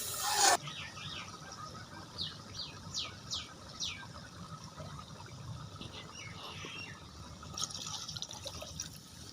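Water is poured into a pot of three-bean rice pulao as a steady, soft splashing trickle, with birds chirping faintly in the background.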